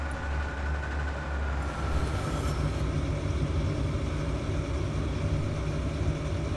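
Class 110 diesel train running in the Transport Fever 2 game, a steady, dense rumble and clatter of rolling stock that continues without a break at an even loudness, with no talk.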